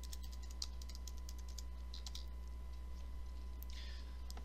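Keys clatter on a computer keyboard as root's password is typed at a GNU/Linux terminal: a run of quick, light, close clicks over a steady low electrical hum.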